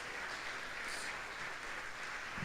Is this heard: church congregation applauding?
yes